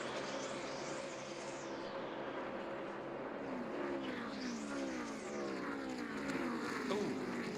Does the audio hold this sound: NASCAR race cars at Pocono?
yes